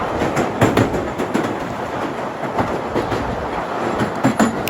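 Train rolling along rails between Rayagada and Koraput, a steady broadband rumble with rhythmic wheel clatter and occasional sharper clacks, close and continuous with no talk.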